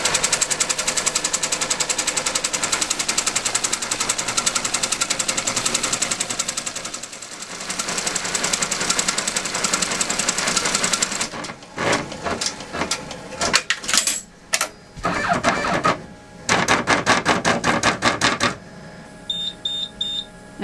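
A home sewing machine runs a finishing satin stitch edge on a crazy quilt block, a steady dense whir for about eleven seconds, then stopping and restarting in short choppy bursts with brief pauses between.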